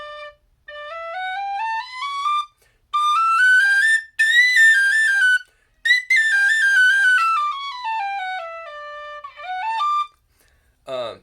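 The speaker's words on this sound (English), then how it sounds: "So I got a Feadog whistle, and I like this one better." Feadog tin whistle in D playing a lilting melody of clear, bright sustained notes and quick runs, close and alone, with a few short breaks between phrases.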